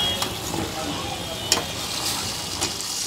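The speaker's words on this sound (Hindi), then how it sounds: "कलेजी फ्राई बन रहा है," Kaleji (goat liver) fries in a pan at a small old roadside hotel, giving a steady, dense sizzle with occasional spatula clicks and a background murmur of voices.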